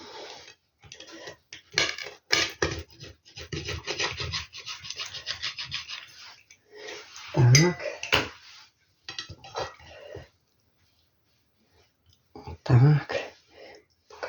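A knife cuts through thin, crispy home-baked pizza, giving repeated crunchy scraping and cracking sounds in bursts, with quieter pauses and occasional louder crunches near the end.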